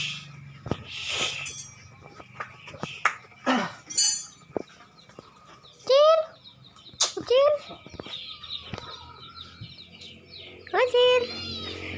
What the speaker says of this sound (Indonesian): Ini kucing-kucing ya guys